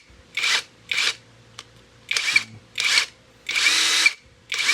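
A Tio Moon impact wrench runs in about six loud, close bursts of roughly a second each, its hammering whir starting and stopping with short quiet gaps between.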